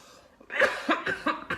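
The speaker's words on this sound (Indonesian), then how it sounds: "Maafkan, batuk saya masih ada" A person coughs in a few short, harsh bursts in close succession nearby, each one abrupt and fairly loud, with no other sound between them.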